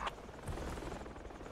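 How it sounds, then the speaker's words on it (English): A helicopter lands in a video game: a faint, steady rotor thrum with a broad rumble that holds evenly through the short stretch, with no talking. "Is that chopper landing? That's a chopper landing, right?"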